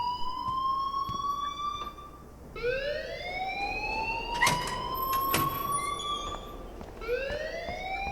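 A school alarm in Life is Strange rings in repeated rising electronic whoops, several cycles in a row, loud and close, with a couple of sharp clicks in between and no one talking.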